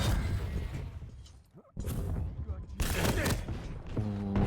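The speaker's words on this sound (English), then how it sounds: "nice a nice rockets. damage from the rocket." Rocket launcher fire and blasts in a Quake duel match, loud repeated bursts and whooshes with a deep impact near the end, under talk.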